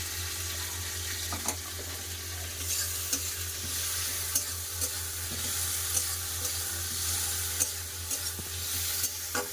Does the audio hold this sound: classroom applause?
no